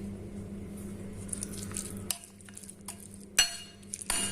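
Chilli garlic chutney is stirred in a bowl with a spoon, making soft wet squishing and scraping with a few sharper clinks. The sound is quiet and close, over a low steady hum.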